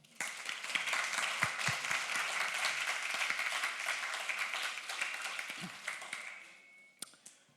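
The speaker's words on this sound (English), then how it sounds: "So, round of applause." Applause from a conference audience at a WordPress talk, a dense steady clapping that holds for several seconds and then tapers off, with a couple of isolated claps near the end.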